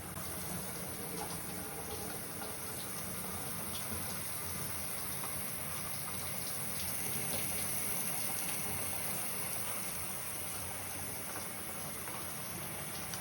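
Water sprays steadily from the handheld shower of a Midanya rain shower system, a constant, even hiss that continues unbroken at moderate level throughout.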